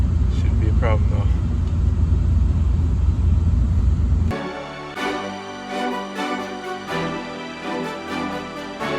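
A Mercedes ML55 AMG SUV sits warming up in the snow, its engine a loud, steady low rumble for about four seconds before the sound cuts abruptly to quieter tonal sounds.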